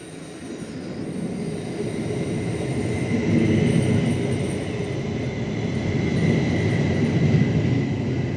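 RE8 double-decker regional train from Hamburg pulling into a station, a loud continuous rumble of wheels and carriages that builds slightly as it rolls past, with faint squealing and no voices.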